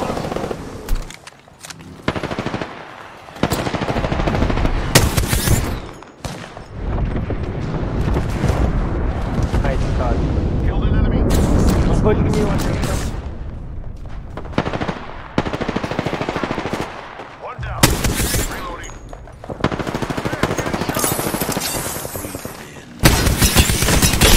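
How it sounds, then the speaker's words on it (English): Gunfire and airstrike explosions in the video game Apex Legends, with loud bursts of automatic fire and heavy booms repeating in rapid clusters, broken by short pauses, across the whole stretch. "Calling the airstrike."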